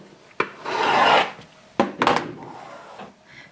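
Rotary cutter drawn along a ruler to trim the edge of a quilted fabric block: two close, rasping cutting strokes, the first long and steady, the second shorter with a quick follow-up, near and moderately loud with no talk.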